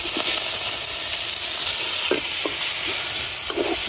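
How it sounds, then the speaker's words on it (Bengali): Whole mustard seeds, two dried chilies and chopped onion sizzling in fish-frying oil, a loud steady hiss with a few short spoon stirs and pops, close up with no talk. "এখন এই মাছের তেলের মধ্যে দিয়ে দিতেছি অল্প একটু সরিষা, আস্ত সরিষা দানা আর কি, আর দিয়ে দিতেছি 2টা শুকনা মরিচ, দিয়ে দিতেছি পেঁয়াজ কুচি"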